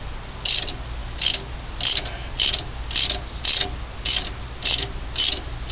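A ratchet slowly cranks a Ford 400 engine in a 1978 Continental Mark V during a timing chain job, giving about nine evenly spaced bursts of clicking rasps against a low steady hum, close and moderately loud, with no talk.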